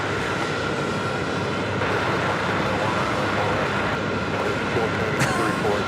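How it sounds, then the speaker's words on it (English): An American Airlines Boeing 777-300ER jet departs JFK, its broad engine roar steady and distant, mixed with a low rumble of airport and road traffic throughout. "Next departure, American Airlines Flight 334, heading to Athens,"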